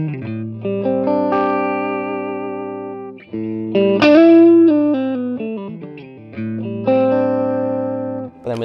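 An electric guitar with a single-coil pickup plays chords through a Marshall JCM900 Studio amp on channel 1 with the gain turned up, giving a loud, driven, sustained tone.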